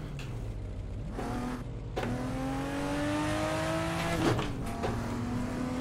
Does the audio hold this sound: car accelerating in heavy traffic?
yes